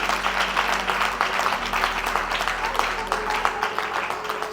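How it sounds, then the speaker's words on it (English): A church congregation claps together during a sermon, steady dense applause filling the room continuously and loudly, with music or voices faint underneath. "come on, clap unto the Lord."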